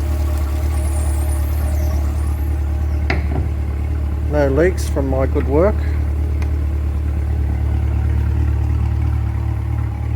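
A C8 Corvette idles during an oil and filter change. A steady low engine hum runs throughout, someone talks briefly over it, and a few sharp clanks from work nearby cut in near the middle.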